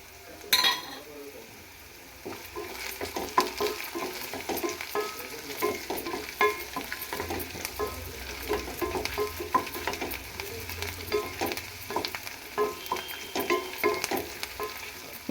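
Dry red chillies fry in a new heavy steel pan with a copper core, giving a steady sizzle broken by scrapes and light metallic clinks from stirring, close and moderately loud with no talking.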